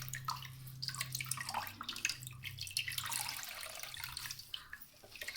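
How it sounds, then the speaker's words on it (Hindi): Water squeezed from six slices of soaked bread pours and trickles into a bowl while making kebabs, a close, continuous splashing and dripping. "सारा पानी हमने इसका मूव कर देना है, इस तरह बाउल में डालते जाएंगे।"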